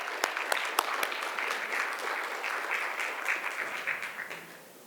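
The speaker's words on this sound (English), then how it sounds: "Please give it up for Deepti and all these awesome elected officials." Audience applause after an introduction of elected officials at a youth political summit, a dense crowd clapping steadily throughout with some louder individual claps, tapering off at the end.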